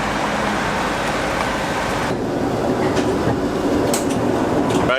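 Train rolling through Lviv railway station, a loud continuous rumble with rhythmic wheel clatter and metallic squeals near the end.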